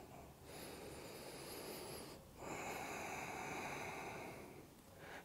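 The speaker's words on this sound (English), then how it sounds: "Deepen your breath to match the experience" Slow, deep breaths during a yoga flow, drawn in and released in two long airy waves, close and steady with a short pause between them.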